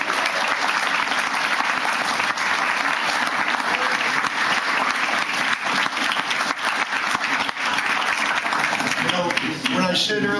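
Sustained applause from an audience at a fire safety awards ceremony, honoring children, a thick continuous roar of clapping that stays loud and even throughout, with a few voices surfacing near the end.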